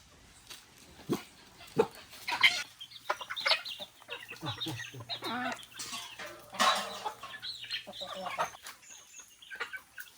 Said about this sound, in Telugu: ఇవే ఉన్నాయండి కోళ్ళు ఉన్నాయండి